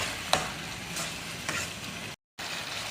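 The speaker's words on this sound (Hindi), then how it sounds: "मिक्स करेंगे इसको अच्छे तरीके से।" Macaroni with soy sauce stirred in a pan, with a soft sizzle and a few distinct scraping strokes spaced about half a second apart, close and quiet with no talking.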